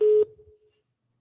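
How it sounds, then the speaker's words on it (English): A short electronic beep tone from someone joining a conference call sounds, then fades into near silence before a faint click or voice cuts in at the end. "you may hear some beeping because it's people that are trying to join us"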